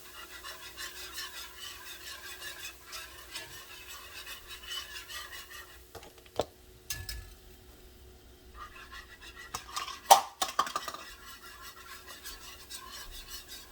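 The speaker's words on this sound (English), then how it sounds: "And you want to stir." A utensil scrapes and rubs steadily around a skillet of flour-thickened gravy, a continuous rasping texture with a few sharper knocks near the end.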